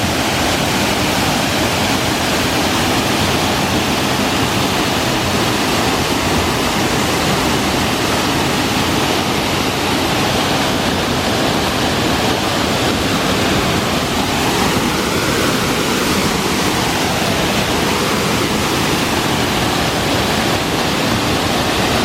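Mantalaga Falls pours loudly and continuously, a dense roaring rush of falling water heard up close with no voices over it.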